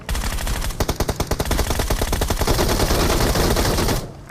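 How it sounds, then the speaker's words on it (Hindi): Rapid automatic gunfire from the video game BGMI, loud and sustained, with dense bursts of shots running nearly continuously for about four seconds before cutting off. "पीछे से कोई गोली चलाता है"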